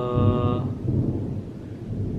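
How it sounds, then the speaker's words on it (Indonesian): Heavy rain pours outside, a steady broadband wash that runs the whole time with a low rumble underneath, and a brief tonal hum at the very start. "ini ada backsound karena emang lagi hujan, mau hujan deras gitu kan"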